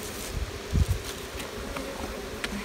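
Honeybees buzz around an open hive during a fall inspection, a steady close hum with a few louder bursts and some rustling, no talk.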